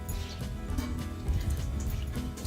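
Water squeezed out of laundry with a mop wringer drips and trickles faintly and continuously, a soft wet patter with low rumbling in the background.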